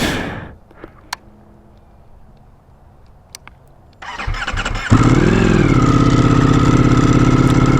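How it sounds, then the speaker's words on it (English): A 2024 BMW M1000 XR or 2024 Ducati Multistrada V4 RS motorcycle engine cranks and fires up from cold, catching after a moment and settling into a loud, steady idle close by. "Let's go ahead and give this a nice little cold start."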